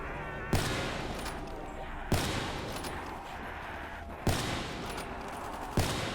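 Four evenly spaced, sharp sniper rifle shots in Black Ops 3 Zombies, each a loud crack with a lingering echoing tail over a faint ambient backdrop.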